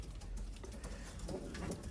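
A pigeon coos softly against a dull background hum, with low murmuring calls.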